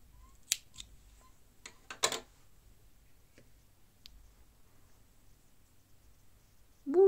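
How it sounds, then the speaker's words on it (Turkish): Scissors snip crochet yarn for a beach bag: a few sharp, close clicks scattered through otherwise quiet moments, with a brief louder handling noise at the end. "bu noktada ipimi kesiyorum"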